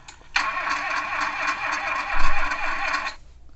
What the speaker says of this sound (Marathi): चला कार चालू करूया आपण.